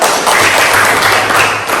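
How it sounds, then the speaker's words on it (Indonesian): A classroom of students applauds during a biology lesson, a dense, steady wash of many hands clapping at once, loud and close, with no pause across the short stretch. "Oke, tepuk tangan dulu."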